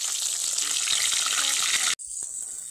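Thick katla fish belly pieces fry in hot oil, a loud, steady sizzle and crackle that cuts out sharply near the end before resuming more quietly.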